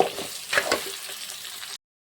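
Chopped ridge gourd sizzles in a hot pan while being stirred, giving a soft frying hiss broken by a few scraping stirs before stopping abruptly.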